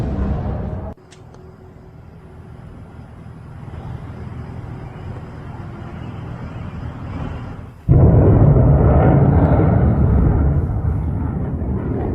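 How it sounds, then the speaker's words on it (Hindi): Deep, sustained rumbling booms of a missile attack roll across the sky, with a sharp crack early on and a sudden louder roar near the end. "आसमान में तेज धमाकों की आवाज सुनाई दे रही है।"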